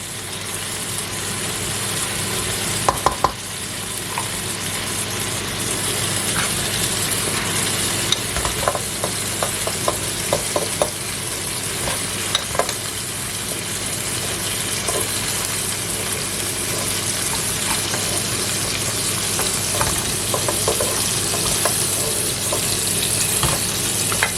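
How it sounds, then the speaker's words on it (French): Vegetables frying for Basque chicken sizzle steadily in a pan, a constant loud hiss with scattered clinks and scrapes of stirring throughout. "Je vais retirer les morceaux pour pouvoir faire dorer après les légumes"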